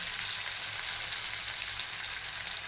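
Fish frying crisply in hot oil for a fish curry, giving a steady, dense sizzle and hiss that continues evenly throughout, close and fairly loud with no talking.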